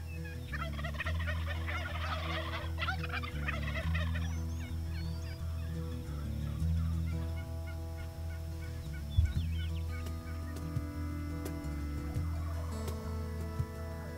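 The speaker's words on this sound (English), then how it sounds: "We got gobblers all around us." Wild turkeys gobbling on a chilly hunt in South Dakota, repeated rattling gobbles from several birds at mid distance over a steady low background hum, with no voices.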